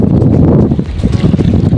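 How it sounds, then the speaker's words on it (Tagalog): Strong wind buffeting a microphone on a boat during fishing, a loud, continuous low roar with gusty fluctuations. "Lakas ng hangin."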